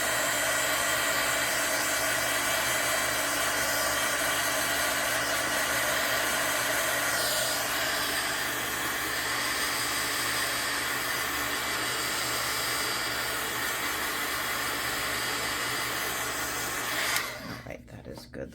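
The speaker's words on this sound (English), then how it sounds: "we can hit it with the dryer" A handheld dryer blows continuously over a craft project for embossing, a loud, steady hissing roar that runs almost the whole time before cutting off near the end, with speech present underneath.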